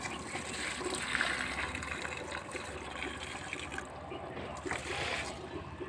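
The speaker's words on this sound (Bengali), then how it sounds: "দেখো গাছে জল দিয়ে দিলাম।" Water is poured from a mug onto a plant outdoors, producing a soft, steady splashing trickle, fairly faint and continuous over low background noise.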